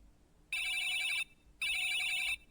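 A telephone in a video game rings in two bright electronic trills, each about three-quarters of a second long with a short gap between, clear and alone over quiet background.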